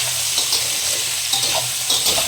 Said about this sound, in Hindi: आलू भी फ्राई कर लेते हैं।